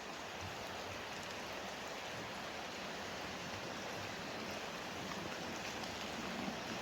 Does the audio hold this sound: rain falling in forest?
yes